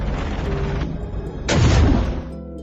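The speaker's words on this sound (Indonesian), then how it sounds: "Joaquin harus menghadang tembakan misil yang diarahkan ke kapal Jepang, dan akibatnya, ia terkena ledakan dan terjatuh" A missile explosion in the film Captain America: Brave New World hits as a loud, deep boom midway through. It rises over earlier rumbling chaos, then decays into a low ringing rumble.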